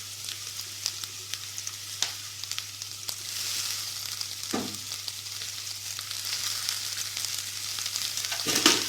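Garlic, green chillies and curry leaves fry in oil with a steady crackling sizzle, broken by occasional louder pops and the scrape of stirring.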